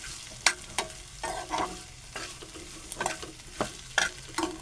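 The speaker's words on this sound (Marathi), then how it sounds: "परत आपण फ्राय करून घेऊ कारले." Sliced bitter gourd (karela) frying in a pan sizzles softly while a spoon stirs and scrapes it, producing a series of irregular clinks and scrapes over the steady hiss.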